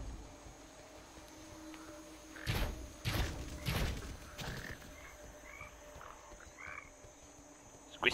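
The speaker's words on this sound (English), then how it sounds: "Sorry, I was chasing a frog." Several croaks from a frog in the video game Path of Exile sound over a quiet humming background, with a few thuds mixed in.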